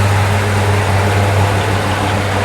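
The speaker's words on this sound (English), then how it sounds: "Listen to that engine." Factory drag racer Chevrolet Impala with solid lifters idling on choke while warming up, a steady, rumbling low drone with an even, unbroken tone, close and loud.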